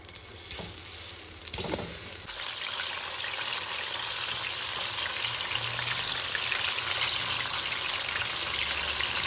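Peeled, chopped tomatoes drop into hot oil in a karahi for a koila karahi, setting off a loud, sustained sizzle and crackle that swells after a few splashy additions and keeps frying steadily up close.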